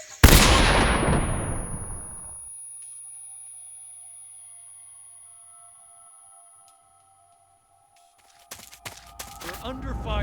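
A single loud gunshot from the video game Metal Gear Solid 3 cracks up front and rings out in a long decaying tail, followed by a thin electronic tone, then silence and a burst of clattering alert sounds at the end.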